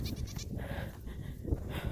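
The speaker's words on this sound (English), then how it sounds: "And goats, and a little goat." Goats bleat close by on a cold rural hillside near East London, South Africa, a few short wavering calls rising over steady outdoor background noise, with no talking.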